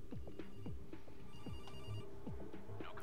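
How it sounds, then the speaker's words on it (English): A telephone rings inside the Door Kickers tactical shooter game, its electronic tone steady and fairly faint beneath a busy, continuous mix of game sounds and rhythmic thumps. "Does someone want to get that phone?"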